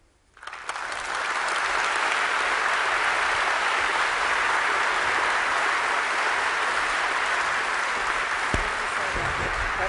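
An audience at a lecture in Adelaide breaks into applause, the clapping swelling quickly from near silence into a dense, sustained roar that holds steady to the end.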